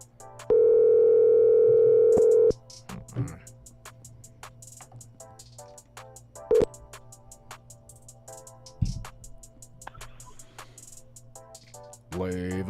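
A telephone calling tone sounds as one long steady electronic tone near the start, followed by quieter clicks and line noise with a brief beep in the middle.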